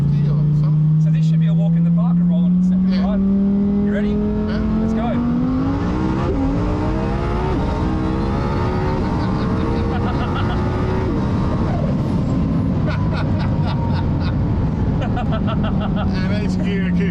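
A high-powered twin-turbo tuner car, Lamborghini or GT-R, accelerates hard through successive gears, engine pitch climbing steadily then dropping at each shift, loud and close from inside the cabin, with voices talking over it.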